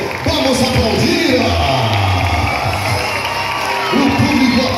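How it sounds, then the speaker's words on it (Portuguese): Circus audience in Campos dos Goytacazes, Rio de Janeiro, cheering loudly with shouts and whoops, a dense continuous crowd roar filling the space, with children's voices mixed in. "O público aplaude de pé esses grandes artistas do Brasil."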